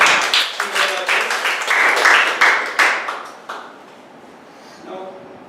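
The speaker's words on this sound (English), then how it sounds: "let us give big round of applause to both the speakers" An audience at a Toastmasters meeting claps for the speakers, a short burst of brisk clapping that swells, then fades to quiet, with a voice briefly audible near the end.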